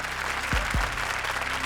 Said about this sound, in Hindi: जोरदार तालियां कुलदीप और शयांतनी के लिए